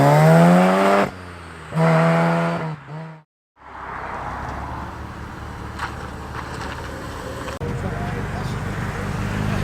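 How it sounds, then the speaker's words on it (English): A classic Austin Healey rolls past at a classic car road run, a steady broadband engine and road noise lasting several seconds after a stretch of talking at the start. "Very tasteful looking Austin Healey rolling past now."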